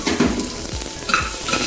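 Garlic fries in olive oil with a dense, close sizzle, with a few light scraping touches of a utensil in the pan.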